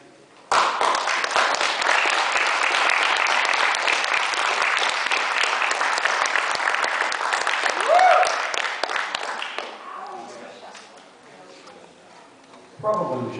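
An audience at a foreign policy debate breaks into loud, sustained applause that fades after about ten seconds, followed by a brief voice at the end.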